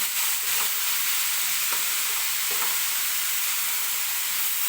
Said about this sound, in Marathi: कोबी टाकलेला आहे आता छान असं याला परतून घेऊया आपण